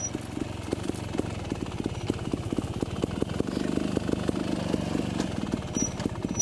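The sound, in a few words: trials motorcycle riding around a corner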